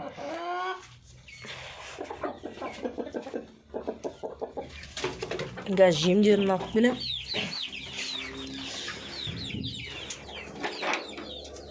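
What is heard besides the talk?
chickens clucking in a home chicken coop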